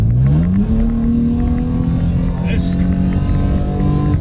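Modified van with its restrictive mufflers removed, engine revving up through a gear change into a loud, steady drone from inside the cabin, with someone talking over it.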